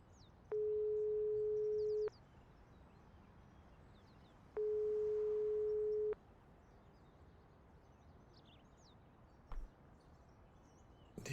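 Unanswered phone call in the video game Broken Sword 5: two long steady ringback tones separated by a pause, then silence, with faint game ambience and a short click near the end.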